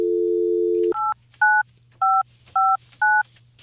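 Telephone keypad dialing a phone number to call back: a steady dial tone, then five evenly spaced two-tone DTMF beeps, loud and close, with no speech.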